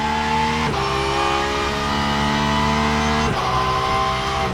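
Porsche 992 GT3 R race car in a sim racing game, its engine droning loud and steady with stepped pitch shifts as it changes gear, no talk over it.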